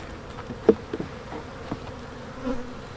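Honey bees in a winter-damaged hive with beetle infestation, about two frames of bees, buzz faintly and steadily, with a few soft knocks of comb or frame handling close by.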